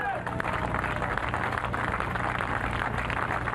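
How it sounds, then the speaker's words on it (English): Steady applause from a large crowd, a dense continuous wash of clapping mixed with cheering and crowd noise throughout. "You can hear the applause."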